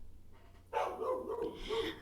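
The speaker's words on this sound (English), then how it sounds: "That dog." A dog barks and yips faintly in the distance, a short burst of a few quiet, tonal barks over low background noise.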